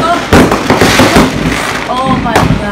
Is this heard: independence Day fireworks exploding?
yes